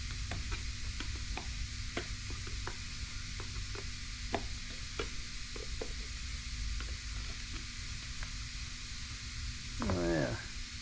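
A can of KBS engine paint is stirred with repeated light scraping taps against the can, a steady rhythmic clicking over a constant background hum, ending in a short swirling scrape.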